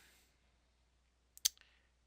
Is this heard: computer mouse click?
yes